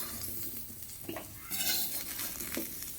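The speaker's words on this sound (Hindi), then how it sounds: "पणस को भी पूरा भल से भाजी दबा" Jackfruit pieces being stirred and fried in a pan for a jackfruit curry, with a soft steady sizzle and a few scraping stirs of a utensil against the pan, no voices.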